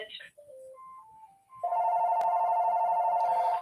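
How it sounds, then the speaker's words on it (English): A telephone rings with a steady, loud electronic trill that continues without a break, preceded by a few soft tones and brief low chatter in the background. "let me let this phone hang up first"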